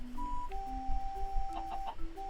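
Chicken clucking in the Minecraft video game, a few short clucks rising over a steady low game background and faint ambient tones.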